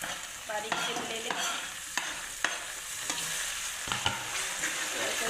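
Finely chopped tomatoes hit browned onions in a hot pan, giving a continuous sizzle broken by repeated sharp spatula scrapes and stirring knocks at an irregular pace, close and clear with no talking.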